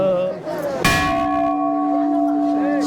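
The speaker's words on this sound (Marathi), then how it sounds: "इथे मोठी घंटा आहे. बघूया आपण वाजवून बघूया." A large temple bell is struck once with a sharp clang, then rings on with a long, steady humming resonance that slowly fades.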